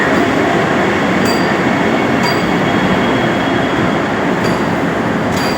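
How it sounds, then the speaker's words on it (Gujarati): A train pulling out of Chennai Central railway station, a loud continuous rumble of wheels on rails close by, with faint high squeals and metallic clicks at intervals. "આ ટ્રેન નીકળી છે, આ જોઈ શકો."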